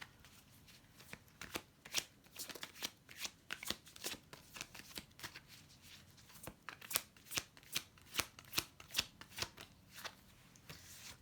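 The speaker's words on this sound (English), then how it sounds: "we have the World card. We have the Death in reverse" Tarot cards are shuffled over and over, giving a quiet, steady run of crisp riffling snaps and soft papery clicks with no voices.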